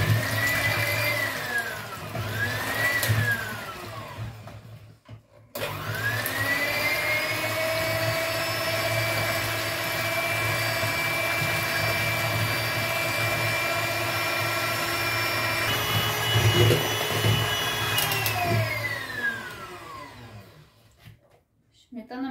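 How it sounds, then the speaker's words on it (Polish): An electric hand mixer whips cream for a nut and coffee cake: a steady, loud motor whine runs almost without a break, pitch sweeping up as it starts and dropping as it stops, with a brief pause early on. "Śmietanę teraz będziemy ubijać"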